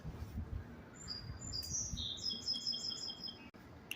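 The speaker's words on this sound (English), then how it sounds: "It's so nice to listen to the pretty birds after it rained." Birds sing at night after rain on a walk in Stockbridge, Georgia, faint rapid chirps and trills over a low background rumble, with no talk.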